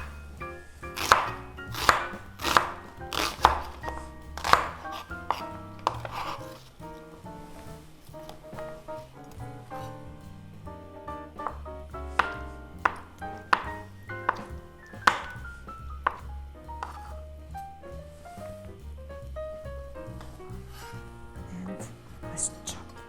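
A knife chops onion on a board for squid soup, with quick, crisp strikes in a fast run at first, then sparser, softer cuts later on.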